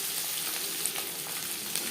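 Small mourola fish fry in hot oil with a soft, steady sizzle and faint crackles, close by and without any voices.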